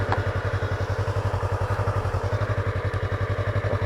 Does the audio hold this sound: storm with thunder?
no